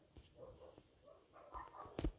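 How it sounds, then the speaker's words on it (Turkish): A few short dog barks and yelps in the racing game Asphalt, fairly faint and intermittent, with a sharper, louder bark near the end. "Lan köpek saldırısı var."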